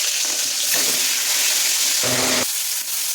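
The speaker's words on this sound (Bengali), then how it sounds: "তেল গরম হয়ে গেছে, এবার একটু মাছগুলো দিয়ে দেবো।" Fish frying in hot oil in a wok, a loud, steady sizzle that fills the scene, with a brief burst of lower clattering partway through.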